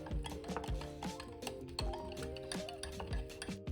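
A spoon stirs sugar into pazham pori batter in a bowl, making quick rhythmic scraping and clinking strokes about twice a second. The sound is close and steady, with no talking.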